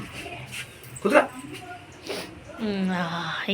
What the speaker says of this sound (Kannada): ಇದು ಪಪ್ಪಿ